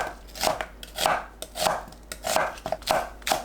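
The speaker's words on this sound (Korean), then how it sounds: "양파를 1cm 간격으로 썰어줍니다." Onion is sliced at 1 cm intervals on a cutting board: about eight crisp, close knife strokes fall in a fairly even rhythm, each a sharp thud with a brief crunch, and no one speaks.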